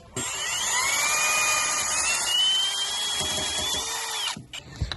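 A powered wire brush cleaning old pipe threads ahead of fitting a 2.25-inch black reducing bushing on a toilet plumbing repair, a loud whining spin with shifting pitch for about four seconds, then stopping.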